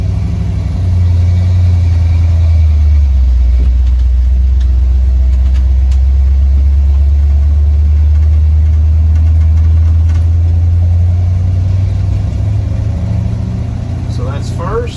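A 1970 Ford F100 pickup truck engine pulls away in first gear, a loud, steady low rumble close by that holds throughout with a slight rise near the end.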